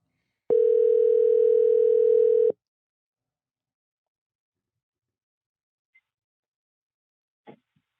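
A single telephone dial tone holds steady for about two seconds, then cuts off, followed by near silence broken by a couple of faint clicks.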